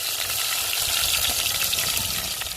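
Onions and green chillies frying in hot oil for chicken kuzhambu, a dense, loud, continuous sizzle with low bubbling underneath, close and steady throughout.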